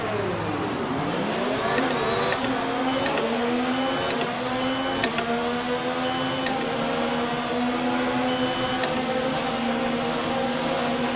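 F1 2019 video game race cars at a race start, a dense wall of high-pitched engine whine rising together through gear shifts, loud and continuous with overlapping cars and no speech.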